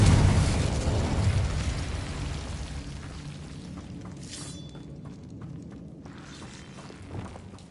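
Incendio fire and Confringo blast spells go off in the Hogwarts Legacy video game, a loud burst up front that decays into rumbling crackle, with a few sharper pops later.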